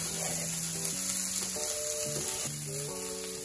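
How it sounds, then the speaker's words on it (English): Vegan spaghetti sauce simmers in a pan on medium heat, a soft, steady sizzle heard under louder background music, with no talking. "I just want this to simmer."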